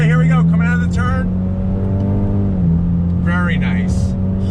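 Engine of a 2020 Ford Mustang EcoBoost with the High Performance Package, 330 horsepower, pulling steadily out of a turn, a sustained drone with a slight pitch dip midway while someone talks over it.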